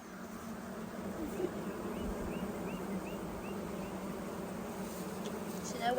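Honeybees buzz steadily around an open beehive near garden flower beds, a continuous close droning hum with individual bees flitting past, and a person speaks softly in places.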